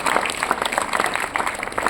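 Students at a math quiz give a lively round of applause, a room full of quick, uneven claps that stays steady and moderately loud for two seconds.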